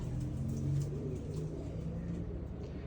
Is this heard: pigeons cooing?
yes